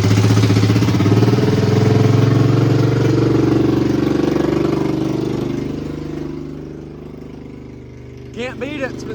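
A Honda Rancher 350 ATV engine runs just after a pull start, a loud close idle with a rough pulsing beat that softens as it settles, with a voice briefly heard near the end.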